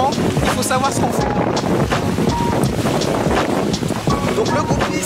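Wind buffets a MiniCat 310 sport catamaran at sea, a loud, steady roar of gusts and water rushing against the hull that runs the whole time, with faint voices underneath.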